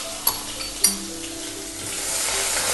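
Onion paste goes into a hot pan of whole cumin, bay leaf and whole spices while chicken kosha is cooking. Two sharp clinks come first, then a steady hiss of frying swells and holds close by, with no talk.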